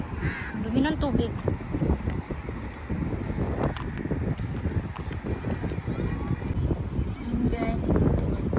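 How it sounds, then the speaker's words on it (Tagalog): Seagulls call by the waterfront at a corniche, harsh cawing cries rising and falling against steady wind buffeting the microphone, with people talking nearby. "Ang daming mga seagulls."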